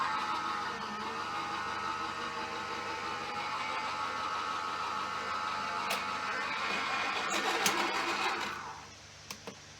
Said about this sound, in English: Helps if I turn the machine on.